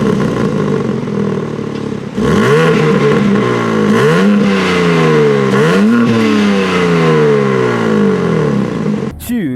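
A 2021 BMW M3 engine pulls hard under acceleration, loud and close, with three rising sweeps broken by quick gear changes. The engine sound stays steady throughout, ending with a sharp burst at the very end.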